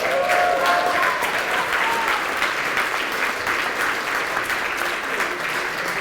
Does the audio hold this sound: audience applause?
yes